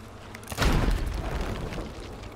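Explosive barrel blowing up in Sea of Thieves, a single loud booming blast that rumbles and fades over about two seconds.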